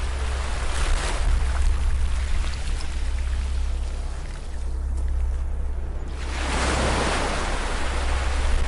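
Gentle waves roll onto a beach as a broad, soft wash of surf over a low rumble. The sound swells and recedes, easing in the middle before a fuller wave rises again near the end.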